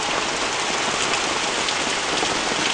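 Heavy rain pours down in a dense, steady hiss with no pauses, loud and close, and no voices are heard over it.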